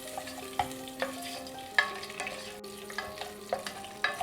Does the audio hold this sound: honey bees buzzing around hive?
no